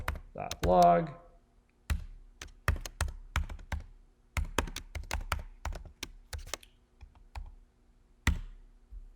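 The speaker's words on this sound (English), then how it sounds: "I'm going to type in console.log" Computer keyboard typing in bursts of close, crisp clicks and taps, with a brief voice-like sound near the start and short pauses between runs of keystrokes.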